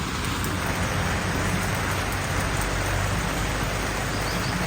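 Steady rain falls in Switzerland, a dense, even hiss of drops spreading across the whole clip with no pauses or voices.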